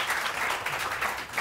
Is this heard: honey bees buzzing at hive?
no